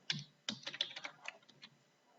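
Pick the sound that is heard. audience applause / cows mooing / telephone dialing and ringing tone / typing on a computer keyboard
typing on a computer keyboard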